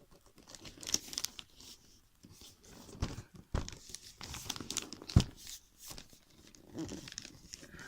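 Glossy Christmas wrapping paper crinkles and tears as a figure is unwrapped, giving close, irregular bursts of crumpling with brief pauses.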